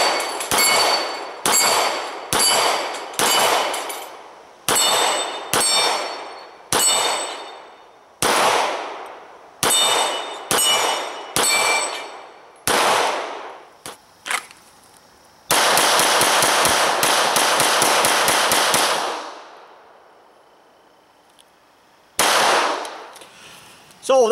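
Walther PPQ M2 9mm pistol fired in a fast string of about fourteen sharp, loud shots at steel plates from five yards, irregular bursts of cracks with ringing gaps, followed by a long burst of noise and one last report.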